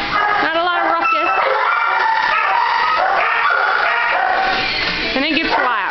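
Shelter dogs at an animal shelter barking and whining in a loud, continuous chorus of overlapping yips, barks and high whimpers echoing in a kennel room, with a person talking among them.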